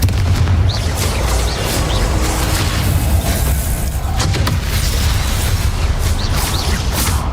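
Confringo fire spells explode repeatedly in the video game Hogwarts Legacy, a loud, continuous string of close booms and bursts with barely any gap between them.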